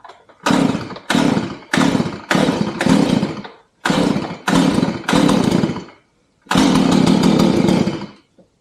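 A Stihl MS 180 chainsaw is pulled and started repeatedly, giving seven loud, close bursts of raspy two-stroke engine noise, each about half a second to a second long with brief gaps, before it catches and runs steadily for over a second.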